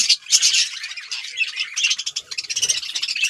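A flock of caged birds squawks and chirps loudly and continuously at close range while scuffling over clay nesting pots, with dense overlapping high-pitched calls and a few soft knocks.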